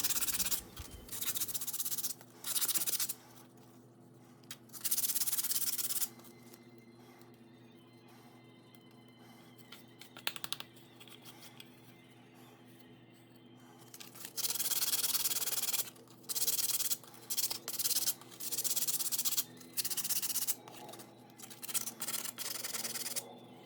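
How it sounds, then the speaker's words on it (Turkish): Repeated bursts of dry, raspy strokes sanding a coconut shell, close up, alternating with quieter pauses under a steady low hum. "zımparalama işlemini yapıyorum"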